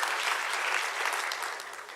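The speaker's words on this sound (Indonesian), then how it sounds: "Yang setuju beri tepuk tangan yang bagi Tuhan" Church congregation applauding during a sermon, a steady dense wash of many hands clapping together that holds evenly for the whole stretch, moderately loud and without voices on top.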